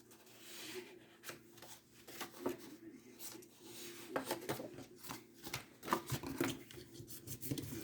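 Paper fold lines are scored for a scrapbook album: soft, uneven scraping and rubbing strokes on paper, close and fairly quiet, with no talking.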